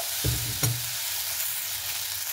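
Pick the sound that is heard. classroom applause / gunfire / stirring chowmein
stirring chowmein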